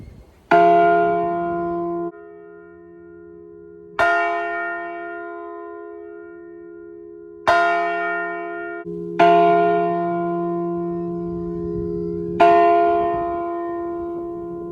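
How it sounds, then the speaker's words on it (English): A Liberty Bell replica at a cemetery roadside attraction in Gotha, Florida rings out five deep, resonant strikes spaced a few seconds apart, each tone sustaining and slowly fading between hits. "Ringing the Liberty Bell replica"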